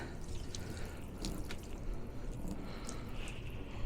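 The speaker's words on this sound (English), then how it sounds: "pour that on the car" Bilt Hamber touchless snow foam at 2% dilution is poured onto a car, a soft continuous liquid wash with scattered faint drips and squishy splatters, close and fairly quiet, with no talking.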